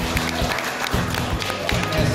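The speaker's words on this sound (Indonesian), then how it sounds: "Tepuk tangan yang keras ini." Audience clapping at a Jakarta discussion forum on Betawi customary law, brisk applause running throughout beneath a voice speaking over a microphone.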